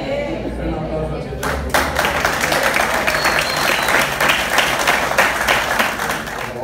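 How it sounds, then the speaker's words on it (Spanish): A church congregation breaks into applause after a preacher's call, a thick wash of clapping building in and holding steady at close range, with a voice briefly heard over it at the start. "Un aplauso al"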